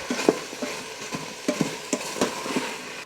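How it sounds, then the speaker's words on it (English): Seasoned beef stirred in an Instant Pot, with a soft sizzle under a rhythmic series of spoon scrapes and taps against the pot, close and fairly quiet, with no talking. "We're just gonna stir this and cook this for a few minutes."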